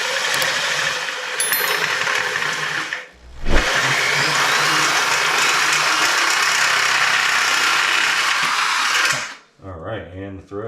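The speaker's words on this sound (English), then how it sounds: "now I'm just vacuuming out the aluminum off my floor" A vacuum cleaner runs loud and steady for about nine seconds, sucking aluminum shavings off a workshop floor, with a brief dip partway through before the motor cuts off and a voice speaks.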